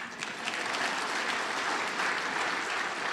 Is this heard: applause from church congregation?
yes